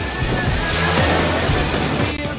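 Sea waves and rushing water around a fast Turkish amphibious car driving back over the sea, a steady loud wash with wind buffeting the microphone throughout.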